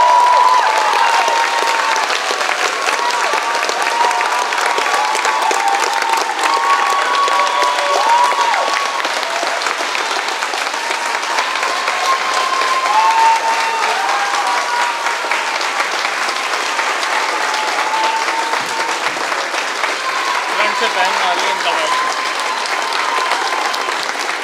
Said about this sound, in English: everybody right now is going to give you another big round of applause